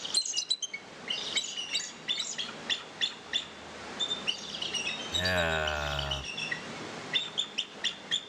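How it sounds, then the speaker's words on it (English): A bald eagle calling with a series of thin, high chirping notes in a steady rhythm, broken midway by a short, low, buzzy honk. The calls are fairly close and clear over a faint background, with a brief voice heard near the end. "That's what a bald eagle sounds like."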